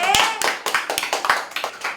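Audience clapping at a Kannada film event, a brief run of bright, uneven hand claps at a moderately quick pace, close and fairly loud, with no talk over it.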